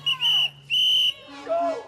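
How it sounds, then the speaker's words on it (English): Shrill whistles blown by locals to warn of ICE agents in the area, three sharp bursts close by, a couple in quick succession then a lower, softer one. "The whistles are a new community tactic to alert people that ICE agents are in the area."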